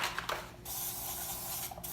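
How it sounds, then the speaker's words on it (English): Cooking spray hisses into a muffin tin's cups, first in two quick short bursts and then in one longer continuous spray, with another brief burst near the end, all close and alone. "turning it, spraying each muffin cup, making sure I get them all."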